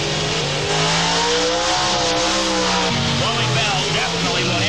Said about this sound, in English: Here come the next two cars. It's a 1990 Beretta, 615 cubic inch Dalton Automotive Chevrolet prepared out of Charlotte,